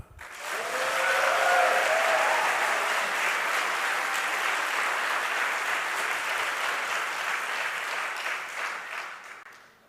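A theatre audience at a democracy forum in Athens's Olympia City Music Theatre breaks into loud, sustained applause that swells quickly, holds steady for several seconds and then tapers off at the end.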